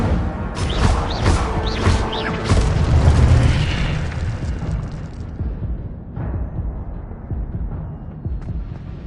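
Fire spell cast in the video game Hogwarts Legacy, a loud booming burst with crackling whooshes early on, followed by rumbling tails and a second softer blast around the six-second mark, with no talking.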